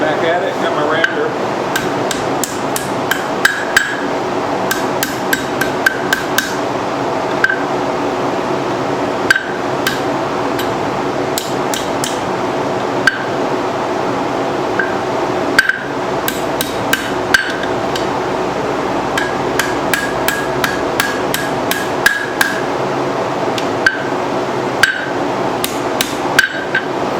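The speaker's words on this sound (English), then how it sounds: "I'm going to use my rounding hammer." A rounding hammer strikes hot steel on an anvil while forging double hooks, sharp ringing blows landing in steady bursts with brief pauses throughout, loud and close.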